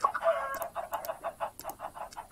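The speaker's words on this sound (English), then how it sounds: "We had a lot of chickens back there." Chickens clucking in the video game Minecraft, a steady run of short, repeated clucks at a moderate level with no talking over them.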